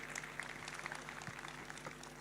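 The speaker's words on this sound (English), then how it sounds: "May we give a big round of applause for this important event." Audience applause fills an opening ceremony at the Indonesia International Sustainability Forum 2025, a faint, steady patter of many hands clapping with no pauses.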